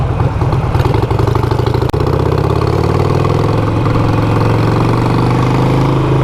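A Harley-Davidson Iron 883 motorcycle engine runs steadily and loud up close, a continuous low throbbing rumble with one brief dropout partway through and no talking.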